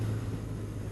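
BMW R1200R motorcycle engine idling low in the revs, a steady deep throbbing rumble held close and even for a brief moment, with no voices over it.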